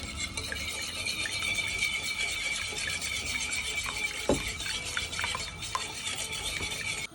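A whisk beats an egg and sugar mixture for French toast in a bowl, a continuous close scraping and swishing with occasional light clinks against the bowl and no speech.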